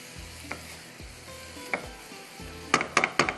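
A masala filling for turnip paratha is stirred in a frying pan, a low sizzle under occasional spoon scrapes, ending in a quick run of sharp clinks against the pan.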